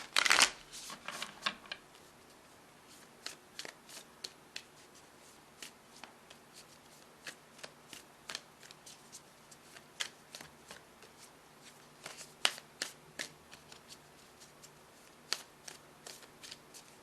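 A deck of tarot cards is being shuffled in a sharp initial flurry, followed by scattered soft flicks and riffles over a long quiet stretch, recorded close and faint with no speech.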